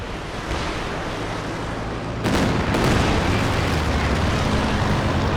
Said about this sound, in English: Pretty good Katyusha barrage, and that annihilates the machine gun for good.